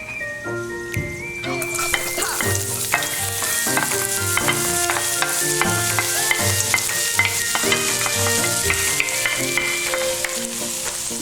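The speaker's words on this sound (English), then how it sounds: "Okay, I'm gonna add the garlic and the onion." Garlic and onion fry in a hot pan with a steady, close sizzle, punctuated by repeated clinks and scrapes of a utensil stirring against the pan.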